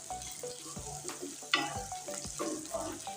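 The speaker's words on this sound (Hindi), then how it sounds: "प्याज को हम मीडियम फ्लेम पे ब्राउन करेंगे" Sliced onions fry in hot ghee over medium flame, giving a soft steady sizzle broken by repeated spoon scrapes and light clanks against the pan, fairly quiet and close.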